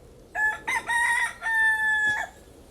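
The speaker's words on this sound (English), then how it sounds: "You may sometimes feel that the rooster is noisy" A rooster crows loudly and close by, one long drawn-out call broken into several bursts, with no other sounds around it.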